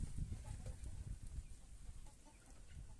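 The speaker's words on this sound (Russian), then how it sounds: "Куры ломятся домой." Chickens hurry home, clucking softly and continuously over a few seconds. The sound is faint and somewhat distant, with no talking.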